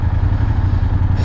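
A Vespa scooter engine hums close by in a steady, low, slightly rattling drone that holds even for a brief moment.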